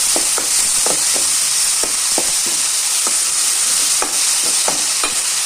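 Ginger garlic paste frying and being stirred in a pan for a crab gravy, a steady loud sizzle broken by repeated sharp scrapes of a spoon against the pan.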